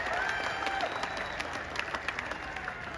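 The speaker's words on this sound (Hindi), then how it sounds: "एक बार तालियों के साथ इनका स्वागत करें" Steady applause from an audience at a felicitation ceremony for a chief minister in Jind, Haryana, a dense wash of clapping that holds at an even level throughout, with faint crowd murmur beneath.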